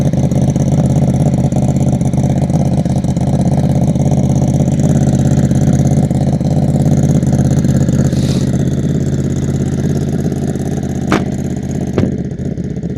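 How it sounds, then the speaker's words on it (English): Ducati Monster 937 fitted with a MIVV X-M5 exhaust idling on a warm day, a steady loud low burble throughout with a couple of brief sharper pops near the end. "This is with the MIVV exhaust with the Ducati in. So this is what it sounds like."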